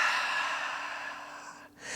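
A single long, audible exhale during a yoga breathing exercise, steady and breathy for almost two seconds, then a short pause and the start of a fresh breath, close and alone with no talk.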